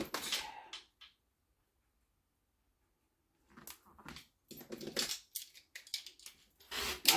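Scissors trim quilted fabric for a small scrap-fabric zippered bag, giving close, crisp snipping cuts in a short burst, then a pause, then a longer run of uneven snips.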